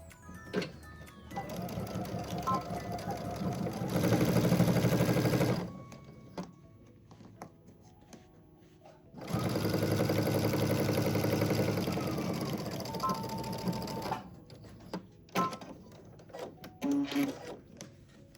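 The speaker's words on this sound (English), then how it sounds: "let's go ahead and stitch these together" A sewing machine stitches a 1/4 inch seam on a fabric tissue box lining in two steady runs of rapid mechanical whirring, separated by quiet pauses with small handling clicks and fabric rustles.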